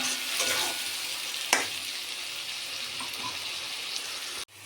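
Coriander leaf paste frying with eggs in hot oil, a steady soft sizzle with light stirring scrapes and a sharp clink partway, ending in a brief gap and a sudden louder knock.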